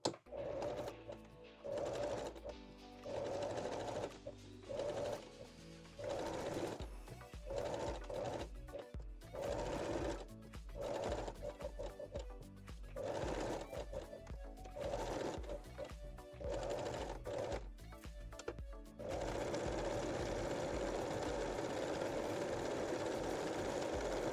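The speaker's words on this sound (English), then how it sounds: "I will stitch the second side as well." A sewing machine stitches lace onto cotton jersey at a panty leg opening, with a fast mechanical whir running in bursts, short pauses and stop-start rhythm, then a steadier run near the end, close by with no talking.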